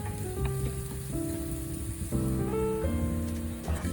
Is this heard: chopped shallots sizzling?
yes